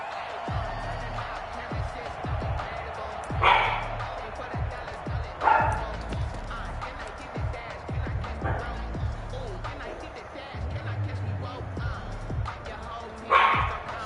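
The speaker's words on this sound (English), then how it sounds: "Shut up, dog." A dog barks and yips several times at irregular intervals, fairly close, under continuous American football play-by-play commentary from a simulated league game.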